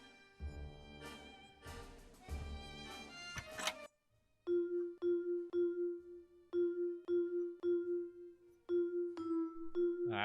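Chimes of a bell puzzle in a Nancy Drew mystery game ring in a halting sequence of single struck tones, each a clear ringing note that decays, first over a dense musical passage and then alone in a steady rhythm.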